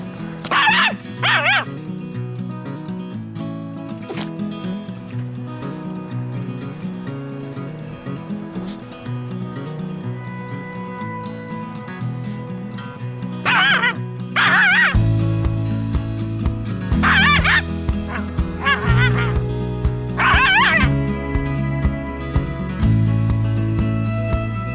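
A small dog yaps and yips in quick, sharp bursts, loud and close, returning in several clusters over a steady droning background.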